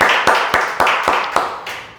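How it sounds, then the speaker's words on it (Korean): Worshippers at a Sunday morning church service clap in praise, giving about seven sharp, distinct claps in a loose, even rhythm that grow slightly softer toward the end. "주님께 감사와 영광의 박수 올려드리겠습니다"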